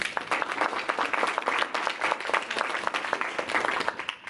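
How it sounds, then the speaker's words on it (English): A Toastmasters club audience gives a speaker a round of applause, dense and lively clapping from a close group of people that stays loud and even across the whole stretch. "Can we all give him a round of applause?"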